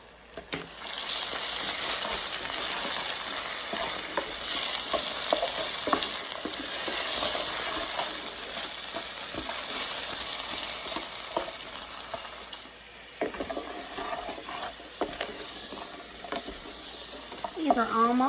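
Food sizzles steadily in a hot pan, a close, continuous frying hiss broken by occasional stirring and clinks, with a brief voice near the end.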